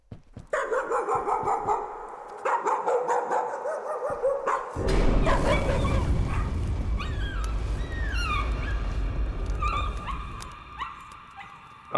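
Dogs in the horror game Layers of Fear bark and yip in sharp bursts, then whimper and growl through a heavy, rumbling ambient layer, loud and close, easing off toward the end.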